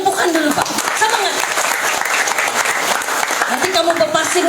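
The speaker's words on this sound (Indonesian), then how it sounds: "Bagi tepukan dulu Pak." An audience at a campaign rally for a state election candidate applauds loudly and continuously, a dense crowd clapping that holds steady throughout, with a voice briefly audible over it.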